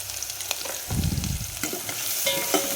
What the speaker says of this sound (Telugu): పసుపు కూడా వేసుకున్న తర్వాత ఇంకొకసారి కలుపుకోవాలి మనం వీడియోలో చూపించినట్టు విధంగా